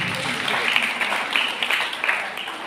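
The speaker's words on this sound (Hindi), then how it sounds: "एक बार जोरदार तालियां तो बनती।" An audience at an International Women's Day 2022 event gives a burst of applause. The clapping is dense and fairly close, with small swells and uneven peaks, and lasts only a couple of seconds.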